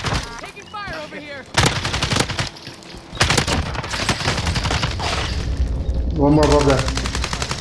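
Gunfire in the Warzone battle royale video game, bursts of rapid automatic shots crackling loud and close in several volleys, interleaved with players talking over team chat.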